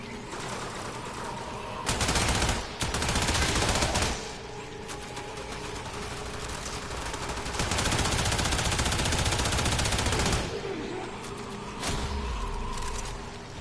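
Rapid bursts of gunfire from the Telesac Boltos pistol in the video game Warframe, loud and continuous over several seconds, with brief dense volleys and short lulls between strings of shots.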